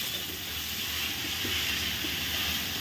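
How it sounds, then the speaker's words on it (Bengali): Pumpkin and lentil mixture being stirred in a hot pan, a steady close hiss of steam and sizzle with faint soft scrapes, no talking. "তো এখন আমি এটাকে ভালো করে নেড়ে নেব"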